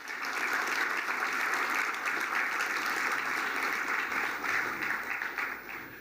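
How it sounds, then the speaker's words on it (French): A large audience applauds steadily at the 2019 LCGF opening ceremony, a continuous wash of clapping that holds evenly for about six seconds. "je vous demande d'applaudir donc le Niger"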